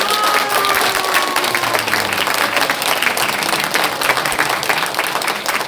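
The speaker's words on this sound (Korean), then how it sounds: "이렇게 열심히 하는 이게 그 청년에게 우리가 용기에 박수 한번 더 주세요." A crowd applauds at a book launch event for a local election candidate in Dong-gu, Daejeon, sustained loud clapping from many hands close by, with faint voices mixed in.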